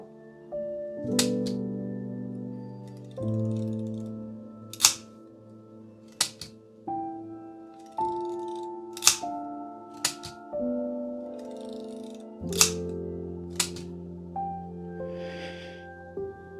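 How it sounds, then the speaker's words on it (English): An Olympus 35 RC rangefinder camera's shutter is cocked and released several times, producing sharp mechanical clicks at a steady pace, close and crisp, over quiet background music. "I will just cock it a couple of times so you can hear the shutter."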